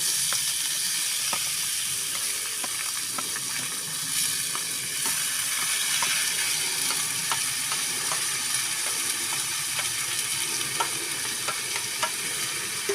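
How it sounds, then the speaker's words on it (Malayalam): Banana stem sizzles steadily as it is stir-fried in a pan for a Kerala thoran, with a continuous loud frying hiss broken by regular scraping strokes of the stirring spoon and no talking. "കാമ്പയിലേക്ക് ഇട്ട് നന്നായിട്ട് ഇളക്കി കൊടുക്കാം അല്ലേ."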